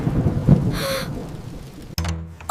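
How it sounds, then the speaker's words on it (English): A storm in a children's story brings loud thunder: a rolling rumble under rain, then a sharp, close crack near the end, with no one talking. "The thunder is so loud!"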